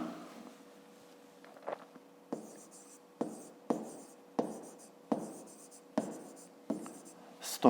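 Pen or pencil writing a measurement by hand, a string of short scratchy strokes in a steady rhythm, close and fairly quiet, with no one speaking.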